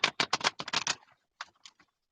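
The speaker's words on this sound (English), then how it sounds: "It was an attempted shuffle." A deck of playing cards gets a quick riffle shuffle, giving a fast ripping flutter of overlapping card snaps close up, then a few scattered soft taps as the cards settle.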